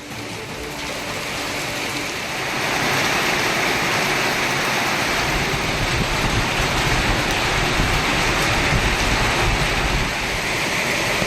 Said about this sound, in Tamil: தென்காசி மாவட்டம் ஆலங்குளம் சுற்றுவட்டார பகுதிகளில் 2வது நாளாக கோடை மழை.